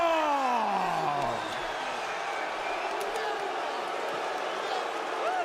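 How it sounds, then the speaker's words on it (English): A Chicago arena crowd at a bantamweight MMA fight murmurs and jeers in sustained displeasure after a unanimous decision, a dense, steady roar of many voices with a few rising whistles and shouts, loud and continuous throughout. "The Chicago crowd does not like it."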